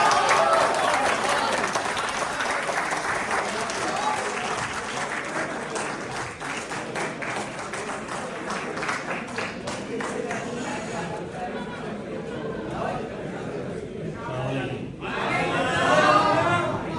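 An audience at an international mushaira, an Urdu poetry gathering, applauds to welcome the poet Shahid Mahmood with sustained, dense clapping, mixed with crowd chatter and a few chuckles. It runs for many seconds and swells again near the end.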